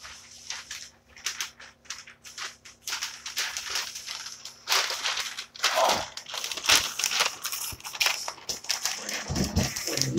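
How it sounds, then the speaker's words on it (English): Paper is crumpled by hand while a fire is being built outdoors, giving close, intermittent bursts of crinkling and crushing with brief quiet gaps between them. "This is me building a fire."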